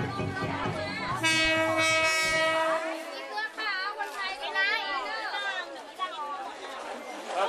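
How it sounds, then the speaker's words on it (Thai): A train horn blares close by over a busy crowd at a market set along the railway track in Ratchaburi, Thailand, then fades as the rumble passes and lively market chatter and voices take over. "ลังจากที่ขบวนรถไฟแล่นผ่านไป"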